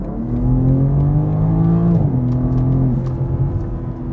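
A BMW M2 sports car engine hums and revs up close in a deep, throaty drone, its pitch shifting through a gear change midway before settling again.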